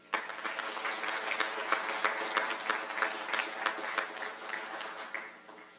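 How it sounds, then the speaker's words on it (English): An audience at a college occupational therapy oath ceremony breaks into dense, sustained applause, many hands clapping together at moderate distance, rising quickly and holding steady before trailing off at the end. "We can do another applause for Carter and for you all"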